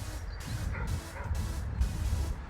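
Dogs bark repeatedly at a holiday park dog field, several sharp yips and woofs in quick succession, fairly close, over outdoor background noise.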